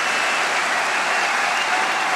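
A table tennis crowd at the 2012 World Championships final in Dortmund, China versus Germany, breaks into loud, dense, continuous applause, a steady roar of clapping with no pauses.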